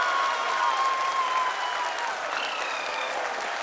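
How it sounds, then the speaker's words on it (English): An audience applauds during the Chandrayaan 3 mission soft landing broadcast, a steady, dense wash of clapping from a large crowd that holds at an even level throughout, with a faint tone and slight murmur beneath. "People are applauding."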